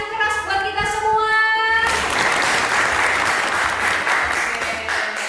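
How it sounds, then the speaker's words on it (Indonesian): An audience at an MC school event in Surabaya breaks into loud, dense applause after a short spoken lead-in, the clapping sustained and close until the end. "Tepuk tangannya yang keras buat kita semua"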